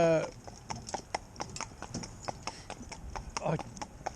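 Morgan horse hooves clip-clopping up a slope in a steady, close rhythm of sharp knocks, with a brief whinny at the start and a voice talking over the footfalls.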